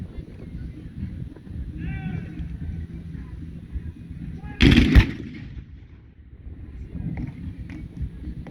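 A single loud gunshot or cannon blast from an American Civil War reenactment at a military show, ringing out sharply over crowd murmur and wind noise, with a brief fading rumble afterward.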